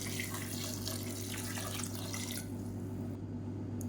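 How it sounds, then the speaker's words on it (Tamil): Water running into a pot while making tomato soup for a simple South Indian lunch, a steady close splashing flow that stops partway, leaving a quieter tail. "சேர்த்துட்டு தேவையான அளவுக்கு தண்ணி விட்டுக்கலாம்."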